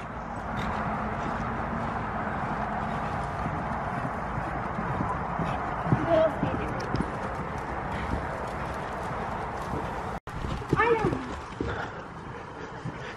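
Rapid clip-clop of a school horse's hooves running on ground, chasing another horse, steady and fairly close, with a brief whinny and some faint voices in the background.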